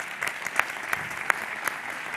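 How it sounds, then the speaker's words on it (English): Audience applause for a speaker being invited onto the Mar Rojo stage at a 2021 startup event, a steady wash of many hands clapping with a few sharper individual claps standing out, fairly distant and even throughout. "Big clap for..."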